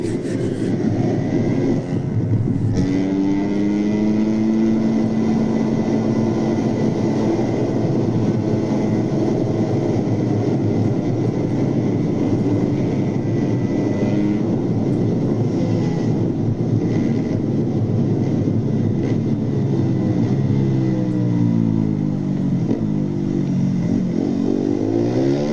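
Car engine revving hard and climbing quickly through the gears, loud and close, a steady roar with rising and falling pitch sweeps, no talking.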